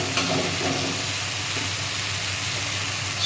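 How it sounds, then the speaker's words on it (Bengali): Spice paste frying in oil in a pan for a jackfruit curry, giving a steady, moderate sizzle and hiss throughout, with faint stirring scrapes and no talking. "মশলা থেকে তেল ছাড়তে শুরু করেছে, আমি মশলাটা ভালো করে কষিয়ে নিয়েছি"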